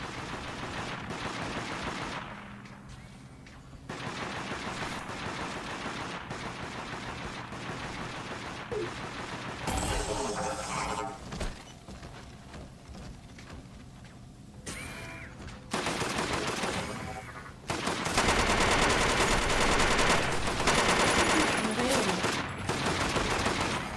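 Gunfire from the hunter's weapon in the game Deathgarden, a busy, continuous stretch of shooting mixed with game noise, swelling louder in the later bursts, with no talk over it.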